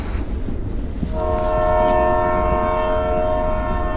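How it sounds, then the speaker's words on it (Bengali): A night train rushes along with a steady rumbling roar, then a long sustained horn blares loudly over the continuous rolling noise. "অন্ধকারের জাল কেটে রাতের ট্রেন ছুটে চলেছে।"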